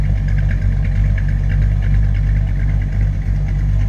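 A 1963 Chevrolet Impala engine idles with a deep, steady rumble and a low throbbing pulse, loud and close, with no talking.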